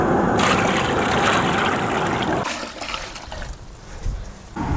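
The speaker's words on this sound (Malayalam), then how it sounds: "വെള്ളം ഒഴിച്ചു കൊടുക്കാം." Water poured into a cooking pot holding whole spices, onion and ground ginger-garlic for village-style kuzhi mandhi, a loud continuous gush that thins and drops off after a few seconds, leaving softer trickles and splashes.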